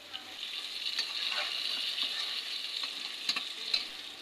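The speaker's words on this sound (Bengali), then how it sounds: "আম্মু তো প্রথমে মাংসগুলো ভেজে নিয়েছে তো এখন মাংসগুলো কষানো হচ্ছে" Meat being stir-fried in a pan, a soft steady sizzle with light scraping strokes and a couple of sharper clinks near the end, moderately quiet and close.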